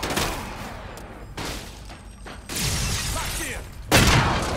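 Gunfire in the zombie game Dead Rising 2, harsh bursts of shots crackling in loud waves with brief gaps, the loudest burst coming near the end.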